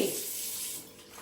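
Water runs from a tap in a steady hiss, a short close splash that fades slightly toward the end.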